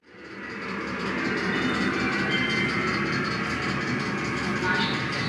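A ČSD class 749 diesel locomotive running on the line from Olomouc toward Hlubočky-Mariánské Údolí, with a loud continuous engine drone and rolling rumble heard from close by, steady throughout.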